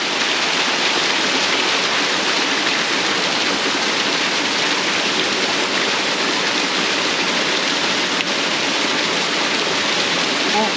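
A waterfall inside hollow mountains, a loud steady rush of falling water that fills the whole scene without a break.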